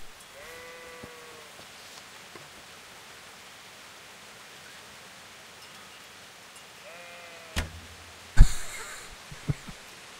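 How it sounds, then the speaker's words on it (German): Sheep in the video game Kingdom Come: Deliverance let out two short bleats, one early and one midway, over a soft rain-like hiss, followed by a few sharp thuds and clatters near the end. "Ein Schaf."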